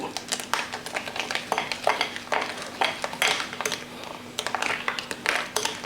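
Spoon clinking and scraping as snap melon juice is stirred with sugar, grated coconut, coconut milk and ice, a steady run of close, bright clatter with a faint hum beneath.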